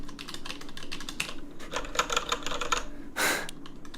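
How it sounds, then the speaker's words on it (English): Someone types fast on a louder computer keyboard, giving crisp, close key clacks in quick runs, followed near the end by a short whooshing burst and a few more taps. "It's a lot louder."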